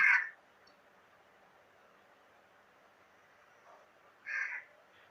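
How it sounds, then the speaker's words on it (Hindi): A crow caws in a wooded outdoor setting, two harsh calls a few seconds apart, the first loud and close, the second fainter, over a quiet background hiss. "पक्षी कौवे की आवाज हाँ, मेरे यहाँ से आ रही है।"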